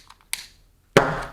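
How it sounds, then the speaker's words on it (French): Small explosions of an LPG and oxygen mixture in a school experiment: a faint pop, then a sharp crack, then after a pause a louder bang with a short ringing tail. "Et je commence à avoir une petite explosion"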